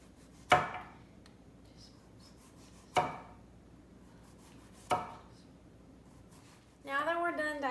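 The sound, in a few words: knife slicing zucchini on a cutting board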